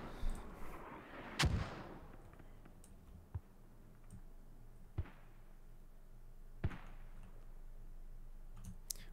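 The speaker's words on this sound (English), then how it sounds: "Mortar's going down on Hilltop now." Mortar rounds fall on Hilltop during a competitive video game match, a few sharp distant thumps and cracks spaced several seconds apart over a quiet low background, with faint clicks between.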